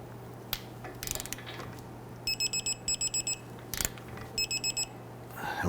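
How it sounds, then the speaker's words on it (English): A torque wrench tightens the nut on a 2011-2023 Dodge Charger steering knuckle, with a few ratcheting clicks followed by two bursts of rapid electronic beeps as the wrench signals its set torque, over a steady background hum. "Let's torque down our nut. It's going to be 50 foot-pounds plus an additional 90 degrees."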